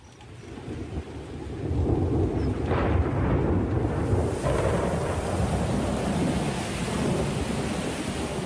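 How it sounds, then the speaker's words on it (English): A heavy November rainstorm breaks the dry season, a deep rolling thunderclap swelling over steady loud rain that keeps pouring for several seconds. "The iron grip of the dry season is dramatically released as the November rains soak the parched ground."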